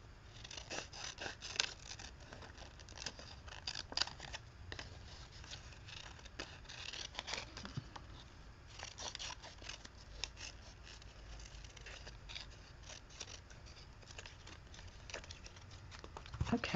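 Scissors snip through the pages of an abandoned book being altered for mixed media, a soft, steady patter of small cuts and paper rustle running throughout at low volume, close by.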